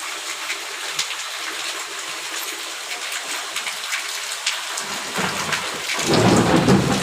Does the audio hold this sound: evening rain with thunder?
yes